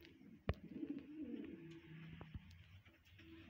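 A breeder pigeon with a boat-shaped keel bone gives a soft, low coo up close, with a sharp knock near the start and faint background noise.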